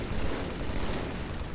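Gunfire in the video game Halo 3 rattles in a dense, continuous burst of rapid shots under a noisy, steady wash of game sound, fairly loud and close throughout.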